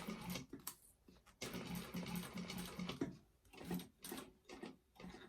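A sewing machine stitches through a bag panel in several short, quiet bursts, with brief pauses between runs as the work is turned.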